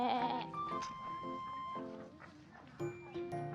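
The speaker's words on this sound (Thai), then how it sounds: "นี่แกะแกะ แบะ" Sheep bleating from inside a fenced pen at an animal club on a Khao Yai resort, several wavering calls close by, mixed with light background talk.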